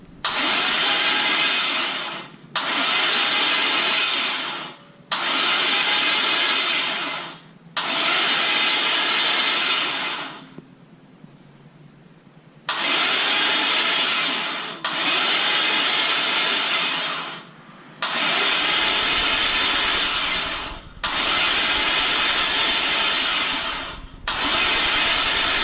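A 5.3 liter drive-by-wire engine is cranked over repeatedly by its starter in a series of loud, even bursts of a few seconds each with short pauses between, then settles into a steadier low running tone near the end.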